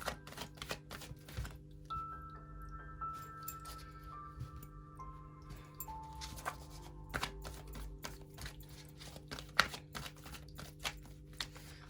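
Tarot cards being shuffled and handled at close range, soft irregular riffling taps and clicks under a faint steady tone, no voices.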